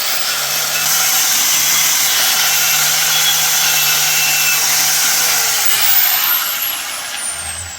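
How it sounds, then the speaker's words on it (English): An angle grinder fitted with a wire brush rasps continuously at close range, cleaning the brake pad carrier on a Fiat 500, with a steady harsh scrubbing that eases off near the end. "about to clean the pad carrier off again here with his wire brush on his angle grinder"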